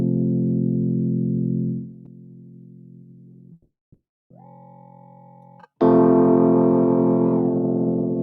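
Synth tone in Studio One with its LFO rate turned down: a sustained buzzy chord, then a short gap, a thinner tone, and a louder, brighter chord with a slow wobbling modulation, alone and fairly loud.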